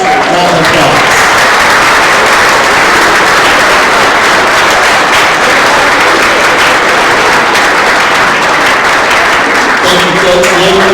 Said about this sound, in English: If you could all please rise and get a nice round of applause.